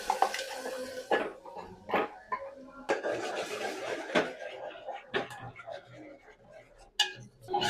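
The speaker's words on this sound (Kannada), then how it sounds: "ಇವಾಗ ಮಸಾಲೆ ರುಬ್ಕೊಂಡಿರೋ ಮಸಾಲೆನ ಒಗ್ಗರಣೆಗೆ ಹಾಕೋತಿದ್ದಾರೆ ಗೈಸ್" Ground spice paste goes into hot oil tempering with fried onions and is stirred in a pan, making repeated metallic scrapes and knocks of a utensil against the pan in uneven bursts, fairly close.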